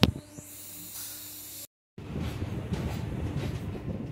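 A train pulls away from a railway station on a Chennai–Chittoor route, with a steady hiss and rumble, then a sudden cut to a louder, dense rattling roar of carriages moving close by.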